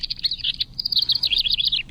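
House wrens around a garden nest box give rapid high bubbling chirps and trills, close and loud, running nearly continuously over a low outdoor background.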